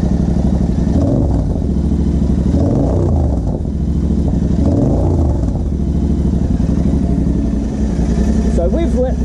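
A Royal Enfield Interceptor or Continental GT twin idles in neutral after fitting a high-flow air box cover, a loud, close, steady thumping exhaust pulse with slight rises in revs and some mechanical clatter.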